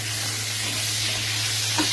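Pointed gourd (potol) pieces fry in hot oil in a pan, giving a continuous close sizzle, with a brief stirring scrape near the end.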